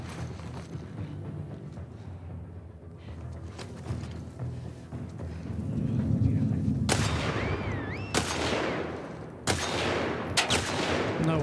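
Gunshots ring out in The Last of Us Part 2: after a stretch of low rumbling ambience, four sharp, loud shots crack out at uneven intervals, each followed by a short decaying tail.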